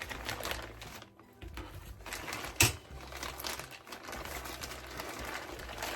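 Scissors snip and slice through duct tape wrapped around a pre-made surgical pack, giving close crinkling, rustling plastic and tape sounds with one sharp snap midway, no talking.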